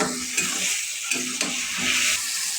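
Taro stem tips with turmeric stir-fried in a pan, a close steady sizzle broken by several rhythmic scraping stirs of a spatula.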